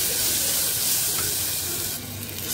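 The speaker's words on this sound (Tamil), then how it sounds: "இந்த இஞ்சி பூண்டையும் வதக்கிக்கலாம்." Ginger and garlic sauté in a pan for a white radish kurma, giving off a steady, fairly loud sizzling hiss that thins slightly near the end, with no voices.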